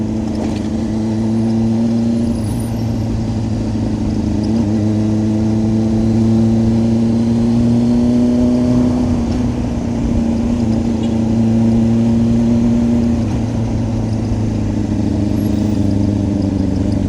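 Motorbike engines on a group ride hum loudly and steadily at close range, their pitch slowly rising and falling as riders rev and ease off, with a faint rattle under the drone.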